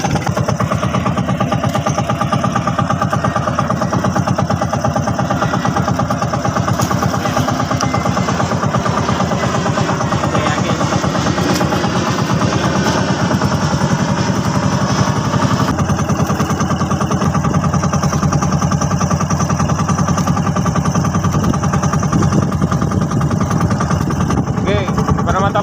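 A fishing boat's motor runs steadily throughout while out netting fish in Bacoor, Cavite, a continuous loud mid-to-low engine drone with people talking over it.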